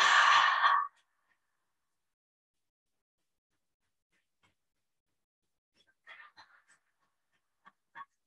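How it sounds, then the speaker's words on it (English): A single long breath pushed out through the mouth during a qigong standing meditation, a close, breathy exhale at the start, followed by near silence and a few soft, faint rustles and breaths near the end. "Take a few breaths out through your mouth."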